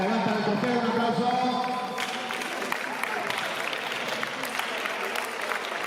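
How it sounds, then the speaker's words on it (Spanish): Applause and crowd noise for a futsal team lifting its trophy at a 24-hour indoor football tournament in Cuacos de Yuste, Cáceres, with steady clapping swelling after about two seconds and continuing under a busy hall. "Venga, levanta el trofeo, un aplauso."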